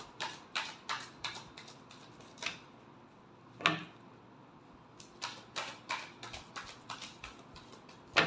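Tarot cards being shuffled in a love reading, giving quick papery riffles and flicks in bursts, with a pause in the middle and a final louder snap, close and clear with no talk.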